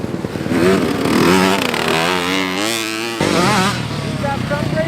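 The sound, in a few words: motorcycle riding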